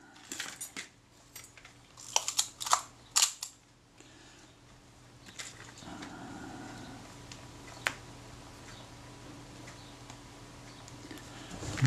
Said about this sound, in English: And tighten this pinhead screw.